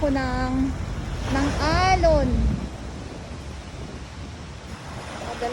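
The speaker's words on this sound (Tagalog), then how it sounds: "Baka mamaya madala ako ng alon." Surf from Manila Bay rushes onto a shore in a steady, broad wash of water noise, with wind rumbling underneath. A voice talks over it at the start.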